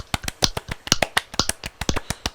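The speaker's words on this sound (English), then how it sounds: "Everybody clap your hands." A few people clap hands in a loose, uneven rhythm, sharp close claps scattered across a couple of seconds with no other sound.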